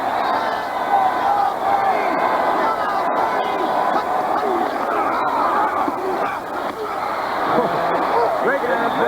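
A football stadium crowd at a 1984 Monday Night game between the Falcons and Redskins roars steadily as Washington lines up for a goal-line play on third down, a sustained, echoing swell of voices with faint announcer talk.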